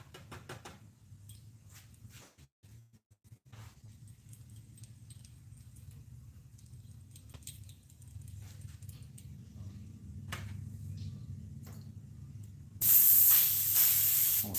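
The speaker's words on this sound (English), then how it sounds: "we're going to do this freehand with the airbrush using yellow" An airbrush sprays yellow paint freehand onto a musky crankbait with a steady soft hiss under a low hum, ending in a sudden loud blast of air.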